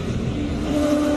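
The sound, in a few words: Nissan 350Z with LS V8 engine at hillclimb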